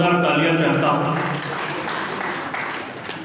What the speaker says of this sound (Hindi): एक बार भैया के लिए मैं जोरदार तालियां चाहता हूँ।